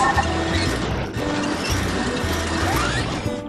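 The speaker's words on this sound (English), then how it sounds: "Change to box form to charge into BNL crates." In a WALL-E video game, the robot in box form rams into BNL crates with a dense, loud clatter of crashes and mechanical rumbling, a low pulsing motor hum underneath throughout.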